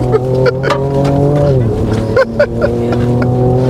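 A Ford Raptor pickup truck accelerating, its engine note loud and close with a steady drone that rises and shifts as it pulls away, while people talk over it.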